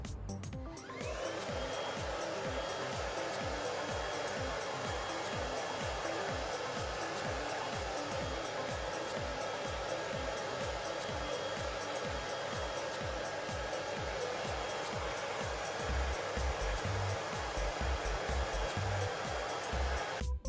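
A hair dryer blows steadily on the top layer of hair, a loud, close, continuous rushing whoosh with a faint rhythmic flutter, running without pause throughout.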